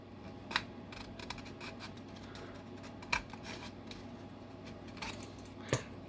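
A few sharp snips of dull scissors cutting through a stiff plastic model car kit, spaced irregularly over a quiet room hum, close to the listener.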